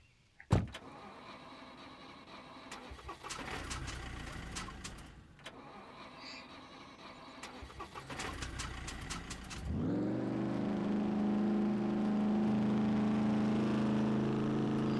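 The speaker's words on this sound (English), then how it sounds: "Engine sounds like a real monster." In the survival game SCUM, a car's doors and controls clatter in bursts before the engine cranks, catches and settles into a loud, steady idle with occasional revving.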